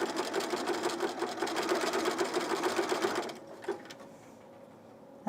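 A sewing machine stitches a fabric strap in a steady, rapid mechanical chatter for about three seconds, then stops, leaving a brief clunk and quiet room hum.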